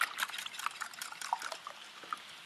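Beaten eggs seasoned with salt, pepper and chipotle hot sauce are poured into a pan of green onions over medium heat, giving a faint, soft liquid pour with a few light splashes, quiet and close.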